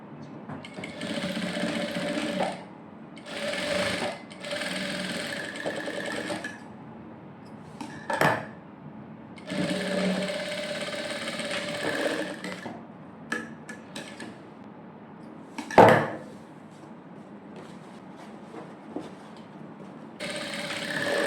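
Sewing machine stitching the shoulder seams of a princess-cut blouse, running in several bursts of steady whirring separated by pauses, with a few clicks and knocks of handling between runs.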